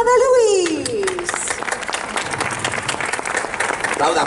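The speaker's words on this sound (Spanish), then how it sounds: "Aplauda, que es la que nos paga." Audience applause at a theatre company's performance, opening with a voice and a rising whoop, then a loud, sustained burst of clapping from the crowd.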